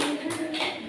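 Brief burst of classroom applause from students in a high school Islamic jurisprudence lesson, a short patter of claps with a faint voice mixed in.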